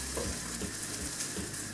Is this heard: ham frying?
yes